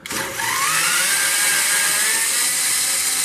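A small, worn-out battery-powered drill whines steadily with a rising motor pitch, close and loud throughout, with no talking, during repair of a 1956 RCA Whirlpool freezer.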